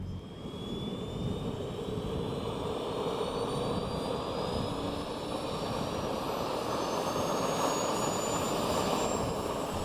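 Several engines of the PTERA modular multi-engine research aircraft run in a steady, loud drone with a rising whine, close by and continuous with no talking.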